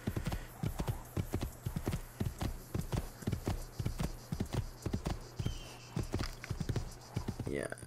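A horse in Assassin's Creed II gallops with steady, rhythmic clip-clop hoofbeats close by, while someone talks over it throughout.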